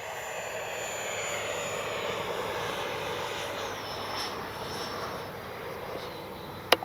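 An FMS 70mm Avanti S V3 RC jet flies overhead, giving a steady, whooshing ducted-fan roar that holds at an even level throughout, with a faint tonal whine sliding downward as it passes.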